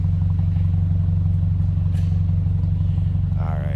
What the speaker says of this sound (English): a little different exhaust, got a little bit of a throaty sound to it